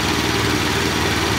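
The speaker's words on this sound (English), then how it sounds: "These Allet mowers, yeah, the engine seems to be really, really quiet." A brand-new Allet lawn mower engine runs steadily and quietly up close, a smooth continuous hum with no speech over it.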